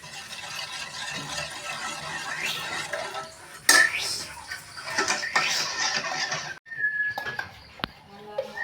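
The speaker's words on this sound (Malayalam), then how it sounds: "അപ്പോൾ നമ്മൾ ഇതിനകത്തേക്ക് ചക്ക വരട്ടിയിടലാണ്." Jackfruit varatti going into a pot of warm second coconut milk for jackfruit payasam, with a scrape of a utensil against the metal pot and some stirring clatter. A few sharper clinks stand out over a close kitchen background.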